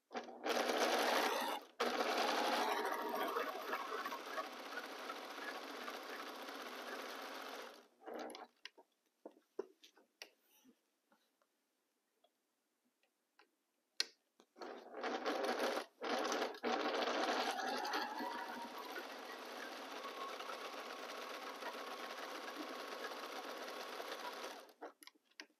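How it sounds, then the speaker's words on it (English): Sewing machine stitching around a pinwheel quilt block, running in two steady bursts with a quiet pause of small clicks and handling noises between them. "So here we already sew all around it."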